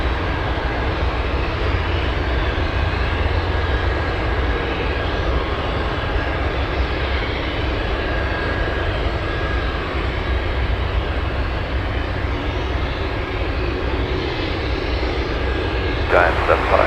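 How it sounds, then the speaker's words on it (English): Heavy Boeing 747 taking off from Anchorage runway 33, a steady broad jet-engine roar that holds loud and constant throughout, with speech heard over the engine noise. "Giant 753, 753 Heavy, Anchorage Tower, runway 33, clear for takeoff."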